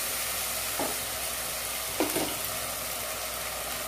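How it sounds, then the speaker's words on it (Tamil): Two spoons of ginger garlic paste frying in oil in a pan, a continuous close sizzle with a few soft spatula scrapes as it is stirred, no voices. "ஒரு 2 ஸ்பூன் ஜிஞ்சர் கார்லிக் பேஸ்ட்டை போட்டு நல்லா ஃப்ரை பண்ணிக்கலாம்"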